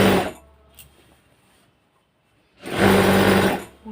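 A sewing machine stitches a gusset onto a pair of trousers, running in two short, loud whirring bursts separated by a quiet pause of about two seconds.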